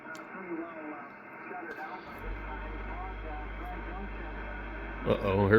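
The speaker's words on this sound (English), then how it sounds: "I heard my air compressor kick on" An air compressor kicks on partway through, bringing in a low, steady hum that continues to the end beneath faint radio-like sound and voice.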